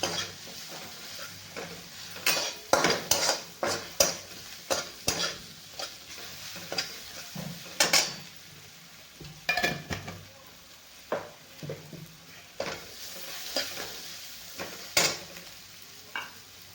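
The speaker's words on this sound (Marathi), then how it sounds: "आणि अर्धा चमचा हळद टाकायची आहे आपल्याला सगळे मसाले चांगले भाजून घ्यायचे आहेत" Garam masala, turmeric and other spices are roasted in a pan for a whole masoor lentil usal, with a spoon scraping and tapping the pan in repeated, uneven strokes over a soft background sizzle, close and clear with no voices.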